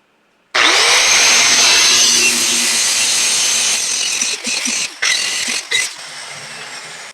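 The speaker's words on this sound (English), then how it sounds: "I'm actually going to take my grinder and grind down a flat spot so I can lay some weld bead down" Angle grinder grinding a flat spot into the worn steel edge of a loader bucket before stick welding, a loud continuous abrasive whine that starts abruptly, then breaks into short bursts with brief pauses near the end.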